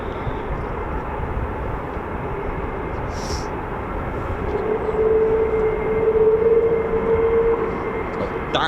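An F-15 fighter jet on the move at an air force base during a mass launch, a steady distant engine roar with a rising whine that grows louder midway as it gets under way.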